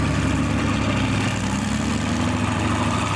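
A 2S1 Gvozdika self-propelled gun with a B6 tank diesel engine runs at idle. It makes a loud, steady, low rumble with constant throbbing and no break, heard close up.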